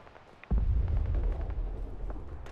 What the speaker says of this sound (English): judging by quite an impressive explosions, we are indeed close to the bastard